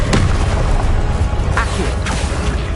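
Confringo blasting spell explosions in the Hogwarts Legacy video game, several booming bursts with crashing impacts amid dense, loud combat noise, spell names called out between them.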